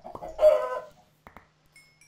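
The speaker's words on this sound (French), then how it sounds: "Alors il y a les petits poulets." Chickens in a video game give a short burst of clucking, followed by a couple of brief, softer clucks and faint chirps, fairly close and with no talk over them.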